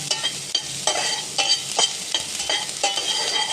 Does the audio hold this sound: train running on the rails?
no